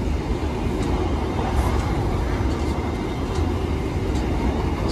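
The Jaka Tingkir economy train runs along the rails between Yogyakarta and Jakarta, a loud, steady low rumble of wheels and carriage with faint rattles on top and no speech.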